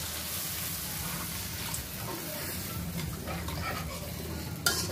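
Water is poured into a frying mustard-paste curry with small fish in a pan, giving a steady loud sizzle and bubbling hiss that carries on throughout, with a brief scrape near the end.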